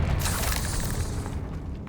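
A Confringo blasting curse in a Harry Potter video game: one deep, rumbling explosion with a broad crackling burst that hits hard at once and slowly fades over about two seconds, with no voices.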